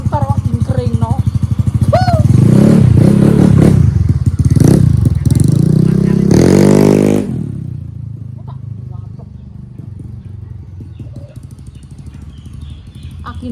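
A motorcycle engine idles with clattering and a few revs, loud and close under lively talk, then drops to a quieter steady idle for the second half.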